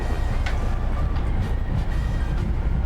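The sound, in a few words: passenger train arriving at Gwangyang Station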